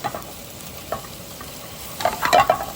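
Sausage and bacon brown in a frying pan with a low, steady sizzle that swells into louder crackling and spitting toward the end, close and without any voices.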